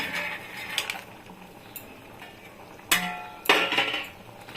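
Fox nuts (makhana) going into boiling gravy for a paneer makhana dish: scattered metallic clinks and clatters of a spoon against the pan, close and fairly light, with no talking.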